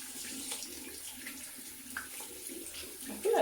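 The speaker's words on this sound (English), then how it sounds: "Wash my hands." Water runs from a tap over hands being washed, a steady close splashing hiss with a louder burst near the end, set in a hair-styling session.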